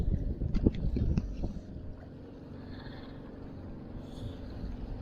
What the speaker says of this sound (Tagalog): Ang lakas ng hangin, ang lakas ng alon.